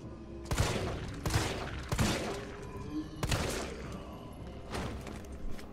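Gunfire in Resident Evil 3, several heavy, close shotgun-like blasts in an uneven sequence, some in quick pairs, each with a thudding impact and short reverberant decay.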